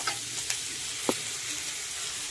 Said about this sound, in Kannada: ಇದೆಲ್ಲ ಚೆನ್ನಾಗಿ ಎಣ್ಣೆಲಿ ಫ್ರೈ ಮಾಡ್ಕೊಳ್ಳೋಣ.